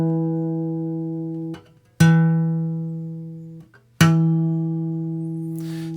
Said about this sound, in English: Let's hear the difference in sound between a regular stopped note and the same note played as a harmonic.